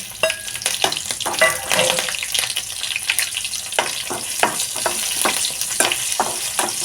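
Green chilies fry in oil, a close crackling sizzle broken by repeated sharp spatters and stirring knocks, lively and moderately loud with no voices.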